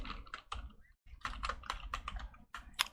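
Close, quiet keystrokes on a computer keyboard as a command is typed, a quick irregular run of clicks with a brief pause partway through.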